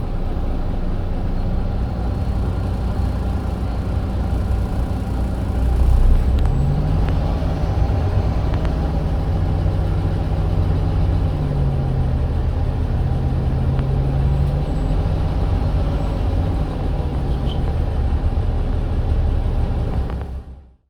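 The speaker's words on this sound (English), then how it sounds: "enjoy a ride on these older Bustech bodied Scanias again." Older Scania L94UB bus with Bustech body, heard from inside while riding, gives a steady loud engine rumble with road noise that rises and holds through gear changes for about twenty seconds.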